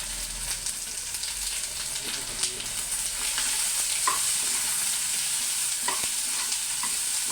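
Onion and garlic sauté in a hot pan for tomato chutney, a steady frying sizzle with scattered scraping stirs, close and fairly loud with no talking.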